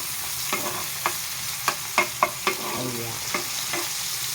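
Tomatoes sautéing in a pan for ginisang dilis, a steady sizzle with sharp spoon-on-pan scrapes and clinks at irregular intervals from stirring.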